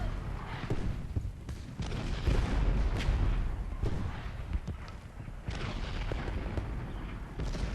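Civil War artillery fire in the game Ultimate General: Gettysburg, with repeated cannon booms and thuds over a dense rumbling battle ambience, loudest in the first half, with no talk.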